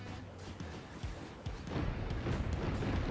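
Rockets fire and thump in the vehicle-building game Trailmakers, a few sharp low bangs early, then a sustained loud roaring rumble of launches and impacts, no talk.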